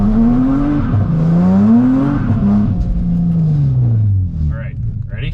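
A Nissan 350Z launches hard from a standstill, its engine revving and rising in pitch through the gears with a loud, close, sustained drone before easing off, while faint tire noise comes through near the end.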